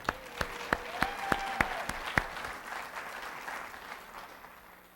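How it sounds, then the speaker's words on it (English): Applause from a pageant audience at a Distinguished Young Women program, a few sharp claps standing out at first before the clapping thins and fades away over several seconds. "How about another round of applause?"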